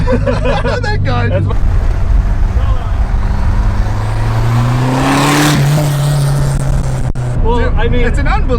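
A Mosler Consulier GTP-LX sports car engine accelerates hard from inside the cabin, its loud rising drone climbing through the revs, with voices talking at the start and end.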